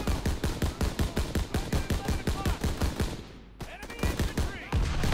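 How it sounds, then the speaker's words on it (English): Rapid, hard-hitting bursts of automatic gunfire from World War II weapons in the Call of Duty WWII campaign, loud and rhythmic with a brief lull before firing resumes, with faint voices underneath. "but to be fair, these guns are hard hitting"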